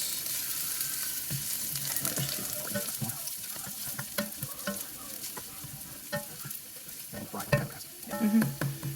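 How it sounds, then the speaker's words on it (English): Garlic and red pepper flakes sizzle steadily in oil in a pot while a spoon scrapes and stirs, with clanks and taps growing louder near the end. "The oil, and a little bit of red pepper flakes. Stir that around a bit and let it cook for a bit."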